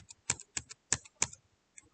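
A few sharp, separate key presses on a computer keyboard, arrow keys tapped in quick irregular bursts, close and clear against silence.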